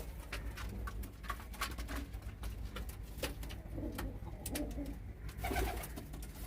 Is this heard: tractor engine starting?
no